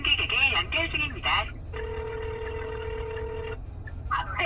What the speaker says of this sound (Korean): 승객에게 연결중입니다.